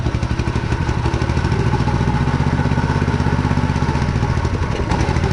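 A petrol engine on a buggy left abandoned outdoors for two years runs steadily right after its pull starter was repaired, a loud, continuous, slightly uneven idling rumble with rapid clattering firing pulses.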